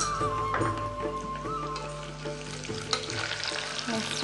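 Boiled green peas frying in a pan in a home kitchen, giving a steady, busy sizzle with a few scraping stirs, close and moderately quiet, with no talk.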